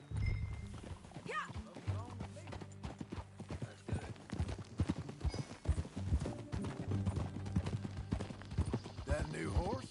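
Horse hooves clip-clop in a steady walking rhythm as a rider moves through a PS4 video game, with characters talking over the hoofbeats.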